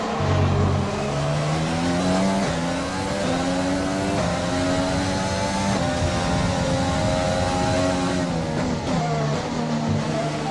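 An F1 race car engine screams at high revs on the final lap of a Monaco Grand Prix in the F1 2020 video game, loud and continuous, its pitch rising and falling through gear changes with occasional tire squeal.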